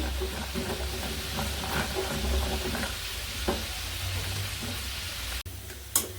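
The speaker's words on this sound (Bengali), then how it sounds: "আমার ওই চুলাতে মাংস ভাজতেছি" Chicken pieces frying in oil on a home stove give a steady, close sizzle that runs the whole time, with a few faint clinks, and nobody speaks.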